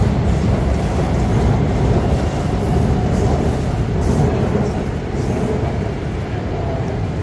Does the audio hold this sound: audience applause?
no